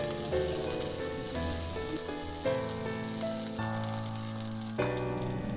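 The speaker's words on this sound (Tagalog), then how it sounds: "At iluto na lang din natin yung mga natira pa nating chicken." Chicken pieces frying in a pan give a steady, close sizzle that runs throughout, partly covered by background music, with no talking.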